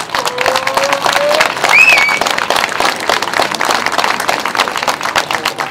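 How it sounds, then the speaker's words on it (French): A crowd bursts into sustained, loud applause after a French political speech, with clapping filling the space and a few whistles and cheers rising briefly. "Ça me fait chaud au cœur vos applaudissements, je ne m'attendais pas à ça."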